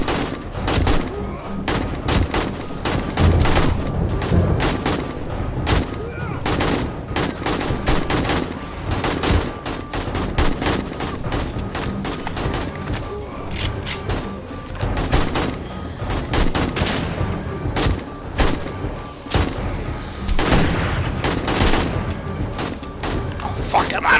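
Rapid assault rifle fire in the survival video game 7 Days to Die crackles in long dense bursts with thuds and booms, loud and continuous, with voices talking over the shooting.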